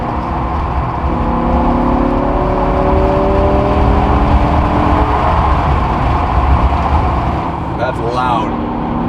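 A BMW M5 E60 with 507 horsepower accelerating hard, a loud, close engine roar climbing steadily in pitch through the gears, a person speaking briefly near the end.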